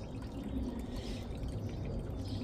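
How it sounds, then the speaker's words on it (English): Slow, weak toilet flush draining sluggishly through a blocked drain, a steady close rush of water running the whole time with no talk over it. "Customer's just flushed the toilet. Not a very good flush though"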